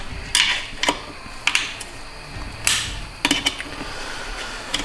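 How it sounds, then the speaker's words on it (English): Metal parts clanking and clicking as a piston is pried out of a 6L80 automatic transmission from a 2017 Tahoe during teardown, with several sharp knocks and scraping taps at close range, no talk. "pop this piston out"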